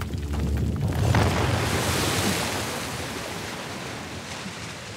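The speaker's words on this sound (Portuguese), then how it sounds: "Que venha a água." Rushing water in Uncharted: The Lost Legacy, a loud, steady broadband roar like surging surf or a torrent, swelling early and then holding with slight fading, with no voices.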